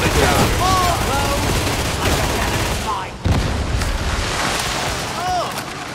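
Heavy sustained gunfire from the video game Warhammer 40000: Darktide, loud and nearly continuous with booming bursts, a brief dip midway, and a voice speaking under the shooting.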